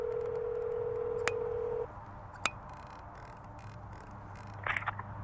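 A telephone call being placed: a steady dial tone cuts off, followed by a few sparse key tones and faint clicks, quiet and close with no talking.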